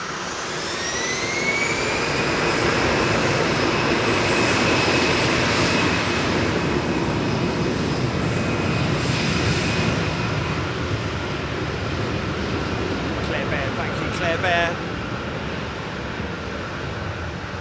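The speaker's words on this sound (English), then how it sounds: "Start up on pushback." Jet engines spool up on an airliner during pushback at London Heathrow, a rising whine sweeping upward in pitch over a loud, steady broadband roar, with a brief clattering burst near the end.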